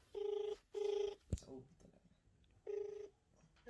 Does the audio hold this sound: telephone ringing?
yes